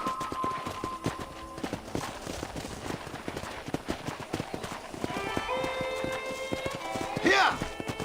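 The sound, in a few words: horse hooves trotting, video game Red Dead Redemption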